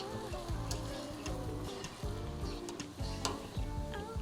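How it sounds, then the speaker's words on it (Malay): A Big Mac sandwich sizzles and crackles steadily in hot deep-frying oil, a constant frying hiss with small pops and ticks throughout. "Pun sama, kita goreng dalam berapa second sahaja."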